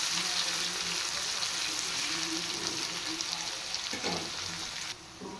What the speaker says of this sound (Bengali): এবার পেঁয়াজগুলো একটু ফ্রাই করে নেব।